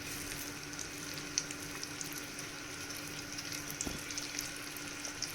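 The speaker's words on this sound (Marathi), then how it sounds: "तर आता इथे आपण फिश पण फ्राय करतो" Mackerel fish frying in a pan, giving a steady, soft sizzle with light crackling throughout and no voices.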